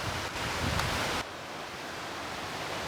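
A mountain creek flows near Mount Corcoran's North Notch, giving a steady, dense broadband rush of water heard close and continuous, with a slight shift in tone partway through and no voices.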